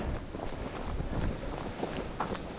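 Wind buffets a microphone on a cold, drizzly road run around 4 degrees, a steady broadband rush that rises and falls slightly, close and fairly loud with no talking.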